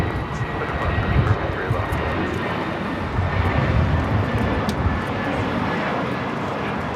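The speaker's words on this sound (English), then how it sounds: "This is Spirit Airlines 311 taking off to San Antonio on the A320." A Spirit Airlines Airbus A320 jet airliner taking off at Los Angeles airport, a loud, broad jet engine roar that swells and holds steady, with talk over it.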